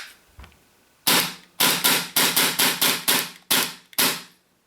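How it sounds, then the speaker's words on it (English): Tokyo Marui Glock 19 gas blowback pistol, empty with gas in the magazine, cycles its slide in nine sharp, loud snapping bursts, each with a short hissing tail, in a quick irregular rhythm close by. "check the blowback action on this pistol"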